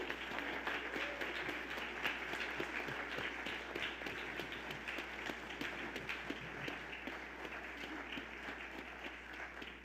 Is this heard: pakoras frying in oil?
no